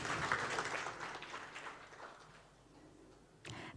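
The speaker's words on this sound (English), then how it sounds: "Ladies and gentlemen, please give a round of applause." An audience at a U20 Sherpa meeting applauds, a faint, distant patter of clapping that thins out and dies away, followed by a brief noise at the end.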